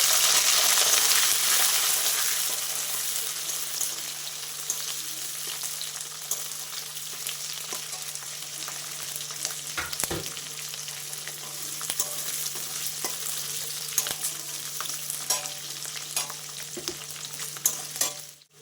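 Capsicum for chilli chicken fries in a pan, sizzling steadily while a utensil stirs it, giving off occasional clicks and scrapes, louder at first and then settling into an even crackle.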